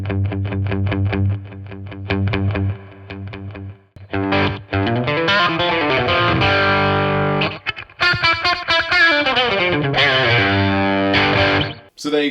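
Electric guitar through a BOSS Katana 50 amp with heavy distortion and a washy, lingering reverb plays sustained chords and phrases, the notes blurring and swelling into one another.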